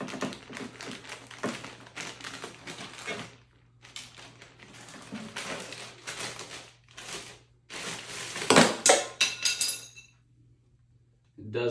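Packaging on the infeed and outfeed tables of a DeWALT 735X planer being cut open, with close, irregular rustling, tapping and scraping over a low steady hum, then a louder tearing burst before it goes quiet.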